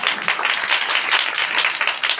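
Audience clapping at a church Christmas program meeting, a steady dense wash of many hands applauding together, moderately loud and continuous throughout.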